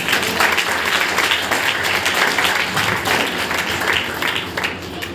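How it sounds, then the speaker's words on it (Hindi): A church congregation claps together in praise during a Hindi sermon, a loud, dense round of applause that holds steadily and eases slightly near the end. "परमेश्वर के लिए ताली बजाएं।"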